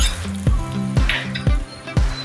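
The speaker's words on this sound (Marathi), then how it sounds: "वरतून छान खमंग अशी फोडणी घातलेली आहे" Hot tempering of oil and curry leaves hisses over a prepared dish, with four sharp bursts of sizzle about half a second apart, each fading quickly, close and fairly loud.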